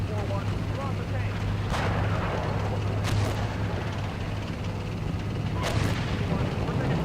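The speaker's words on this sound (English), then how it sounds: "Oh crap, we got enemy artillery inbound." Enemy artillery fire in the tank simulator Steel Beasts Pro PE, with several sharp distant blasts at irregular intervals over a steady low engine rumble and battlefield noise.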